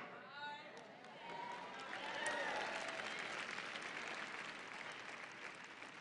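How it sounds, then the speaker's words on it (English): A church congregation clapping during a sermon, a soft, distant patter of many hands that swells briefly in the middle, with voices murmuring underneath. "I didn't think everybody would clap for that."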